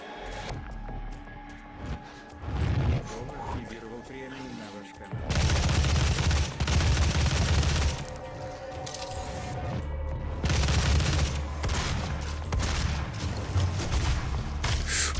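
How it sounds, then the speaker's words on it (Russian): Gunfire in the video game DOOM on Nightmare difficulty: loud, dense bursts of rapid shots and cracks come in clustered volleys with brief lulls, a close chaotic firefight with scattered background noise. "Кто там стреляет?"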